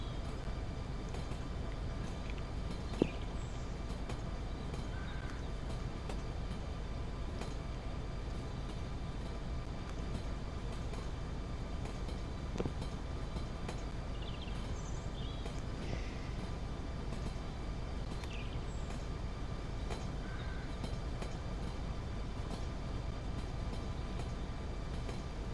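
A freight train in Train Sim Pro USA rolls downhill on the Washington and Oregon Railroad, a low continuous rumble of wheels and cars with a few faint squeals and clanks scattered through a long, steady run.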